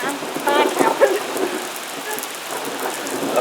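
Steady rain from an approaching lightning storm patters on a surface outdoors, a dense continuous hiss with no distinct thunder claps, moderately loud throughout.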